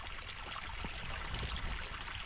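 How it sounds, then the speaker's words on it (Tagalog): A stream flows beside a farm hut in rural Quezon Province, a faint continuous rushing and trickling of water with no talk. "ang sarap pakinggan ng agos ng tubig"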